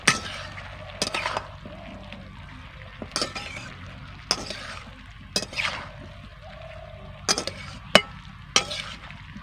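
Prawns and fried vegetables being stirred into pui shak in a pan, a series of sharp utensil scrapes and clatters every second or so over a low, soft sizzle, close by, no talk.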